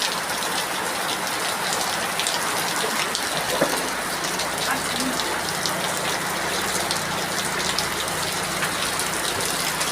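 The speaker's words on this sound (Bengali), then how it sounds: "বৃষ্টি দেখো, তোমাদের ওখানে বৃষ্টি হচ্ছে" Heavy rain pours steadily outdoors, a dense, constant hiss of drops hitting surfaces and splashing into collecting water, loud and close throughout with no voices.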